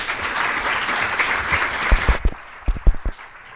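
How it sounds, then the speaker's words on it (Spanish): Audience at a philosophy talk claps loudly for a speaker being introduced, a dense burst of applause that thins into a few scattered claps before stopping. "Fuertes aplausos, por favor."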